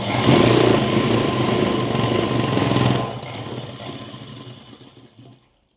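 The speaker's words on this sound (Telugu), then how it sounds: "ఇటుపక్క సేమ్ అలాగే వేసుకోవాలి ఒక హాఫ్ ఇంచ్ ఎడంగా కుట్టునైతే వేస్తున్నాను" Sewing machine stitching a seam on a pair of pants, a loud steady mechanical whirring hum that slows and fades in the last seconds before stopping.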